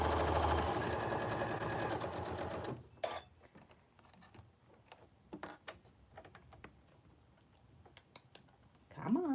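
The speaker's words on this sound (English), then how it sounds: "I am going to start stitching and then I'm going to back stitch" A sewing machine stitching and back-stitching a no-elastic surgical face mask gives a dense, rapid mechanical whir for a few seconds, then falls quiet, leaving scattered soft clicks and handling sounds.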